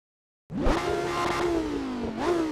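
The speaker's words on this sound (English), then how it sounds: "hear that engine?" A video game car engine, played through a Logitech G29 steering wheel on PS4, suddenly roars to life and revs, holding a smooth rising-and-falling drone, then climbs again briefly near the end.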